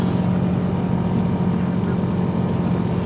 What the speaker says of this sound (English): Fan makes a lot of noise.